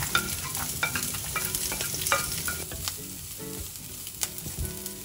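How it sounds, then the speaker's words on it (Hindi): Onion, garlic and curry leaves fry together in a pan with a close, continuous sizzle and repeated stirring scrapes and knocks. "और प्याज को मैं भून लूँगी।"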